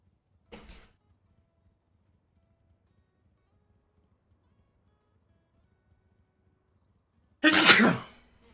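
A person sneezes twice: a brief, faint one near the start, then a loud, full sneeze near the end after a long near-silence.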